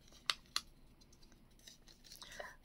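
Scissors cut out a paper template, giving two crisp, close snips followed by soft rustling and fainter cutting, with quiet talk underneath.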